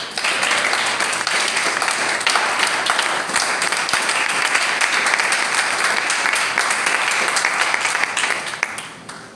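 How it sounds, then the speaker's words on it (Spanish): Church congregation applauding during a sermon: loud, dense, sustained clapping from many people that continues evenly for several seconds before tapering at the end. "Denle un aplauso al Rey."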